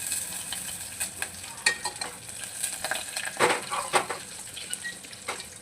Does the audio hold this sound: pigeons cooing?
no